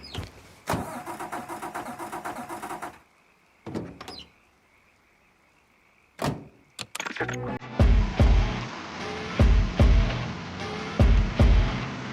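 A car engine in the video game Mafia 3 cranks and catches, then idles and revs in loud bursts after a door-like clunk and a quieter pause.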